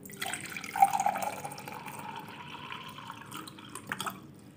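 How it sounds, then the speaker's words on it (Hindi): Water is poured from a vessel into a glass, a soft, close splashing trickle that rises briefly then tapers, fairly quiet throughout. "आपको यहाँ पे एक ग्लास लेना है और इसमें ऐड करना है आधा ग्लास"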